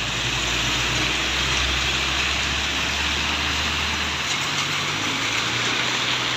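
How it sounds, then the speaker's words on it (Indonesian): Heavy rain pours steadily over traffic on a road during a bus journey in Aceh, a dense continuous hiss with a low engine rumble beneath that drops away near the end. "Tetap diguyur hujan."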